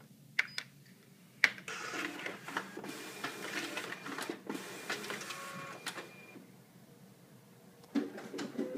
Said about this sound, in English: we're going to run them through the document feeder, verify that works well